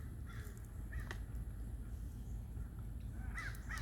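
A crow flying overhead outdoors gives a few faint, distant caws over a steady low hum of background noise.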